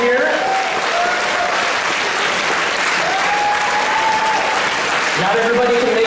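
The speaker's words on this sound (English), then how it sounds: "give a huge round of applause to all 14 teams who competed here" A large audience at a high school robotics competition regional qualifier applauds loudly and continuously, dense crowd clapping filling the hall, with voices and cheers faintly mixed in underneath.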